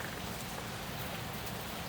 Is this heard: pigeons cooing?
no